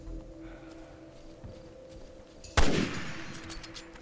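After quiet ambient background, a single sharp gunshot cracks out loudly and decays with a brief echoing tail, in Resident Evil Revelations 2.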